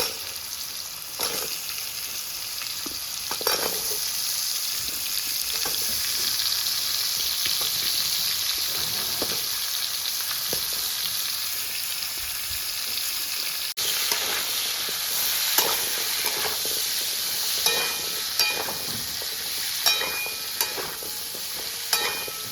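Potato and pumpkin pieces with dried red chilli fry in a pan for a pumpkin, drumstick and prawn ghyat, giving a loud, steady sizzle with occasional stirring scrapes that runs unbroken throughout.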